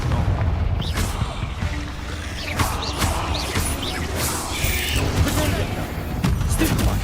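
Confringo blasting spell explosions in the Hogwarts Legacy video game, a dense run of booms and crashing impacts over constant rumbling battle noise, several sharp blasts landing in quick succession without pause.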